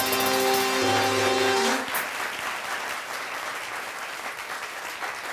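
Studio audience applause at a Pakistani comedy talk show, loud and dense with musical tones at the start, then settling into steady broad clapping.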